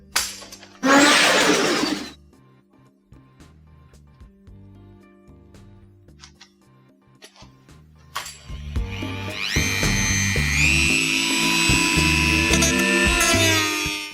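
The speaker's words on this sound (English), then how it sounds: "So I'm cutting the plastic panel out of the way to make room for the piping." A power tool cuts out a plastic panel in a car's engine bay, a loud buzzing burst at first, then a long rising whine as the blade grinds steadily through the plastic.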